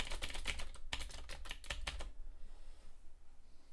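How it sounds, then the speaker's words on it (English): Rapid, clattery typing on a computer keyboard for about two seconds, close and crisp, then the keystrokes stop and only quiet room noise remains. "I've got to type on that. That's what makes all the noise."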